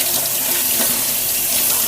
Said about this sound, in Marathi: प्रथम आपण स्वच्छ पाण्याने धुवून घ्यायचं आहे